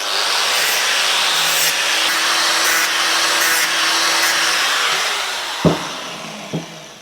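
Steady broadband grinding on a rusty Triumph motorcycle metal part, a continuous abrasive whine held loud and close for several seconds, then cut off, followed by two short knocks.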